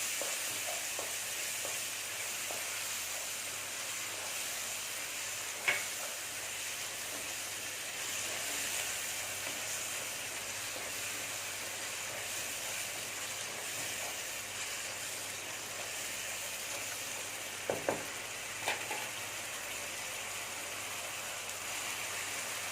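Masala frying in a pan for mushroom masala makes a faint, steady hiss that runs throughout, broken by a few brief, soft clicks of a utensil.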